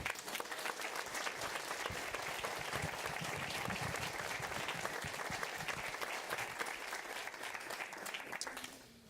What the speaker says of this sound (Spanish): ¿Cuánto le regalaron un aplauso al Señor?